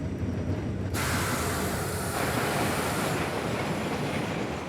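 A snow plow train rumbles along mountain railroad tracks, a loud continuous roar of wheels and machinery with a broad hiss that shifts partway through, steady and close with no voices.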